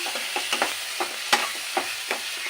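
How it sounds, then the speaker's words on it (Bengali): Chicken frying in a pan for a roast, with soft continuous sizzle broken by repeated scrapes and taps of a stirring spoon at an irregular pace, close and clear with no talk. "এটাকে একটু ভাজি করে নিতে হবে"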